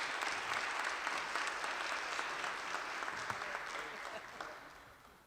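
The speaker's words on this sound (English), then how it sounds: "can we have another round of applause" Audience applause at a youth apprenticeship launch event in Buffalo, a dense, sustained wash of many clapping hands that gradually fades toward the end.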